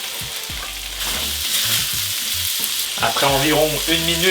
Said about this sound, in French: Donc l'ail et le gingembre au milieu, ça fait revenir le tout. Donc, on met l'oignon.